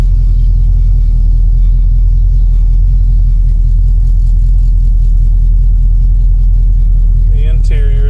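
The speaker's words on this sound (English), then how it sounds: "enjoy some clips of driving around in that 4-door Biscayne." A four-door Chevrolet Biscayne's engine drones steadily while driving, a loud continuous low rumble throughout with a brief higher whine near the end.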